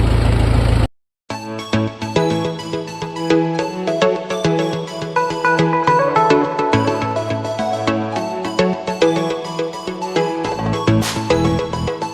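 A tractor engine runs steadily and fairly loud during soybean harvesting, a droning rumble with a tonal hum that holds after a brief cutout near the start.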